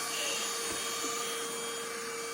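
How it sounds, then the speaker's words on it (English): Amazon handheld portable vacuum cleaner running steadily at close range, a continuous high-pitched motor whine and airflow hiss with no pauses. "So this is actually a perfect little vacuum."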